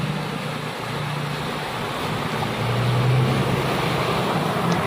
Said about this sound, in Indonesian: kayaknya ini bus Putra Pelangi